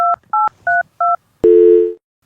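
Telephone keypad tones: four short, evenly spaced dialing beeps, then a longer steady tone lasting about half a second, loud and clear with no talking.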